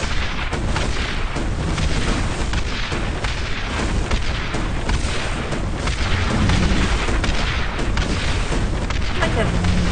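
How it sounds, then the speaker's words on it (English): A rapid-firing magic staff shoots like a machine gun in the game Citadel: Forged with Fire, a loud, dense, continuous stream of booming shots over background noise. "Like a really fast gun. It's like a machine gun. It's a machine staff."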